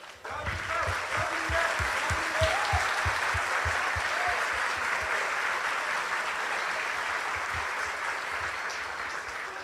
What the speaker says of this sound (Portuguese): esse herói precisa se levantar para a gente bater palmas para ele